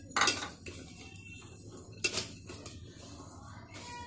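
A spoon clinks and scrapes against a metal pot while sugar is stirred into kheer, with two sharp clatters standing out over soft, steady kitchen handling noise.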